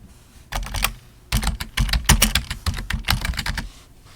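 Fingers tapping on a computer keyboard, entering a website name in a search box, in quick irregular clusters of crisp clicks with short pauses between bursts, close and clear with no voice over them.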